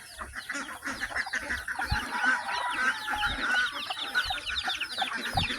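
Domestic ducks are fed in a yard in the afternoon, a dense, steady chorus of quacking and calling from a large flock with busy feeding noises underneath, close and continuous throughout.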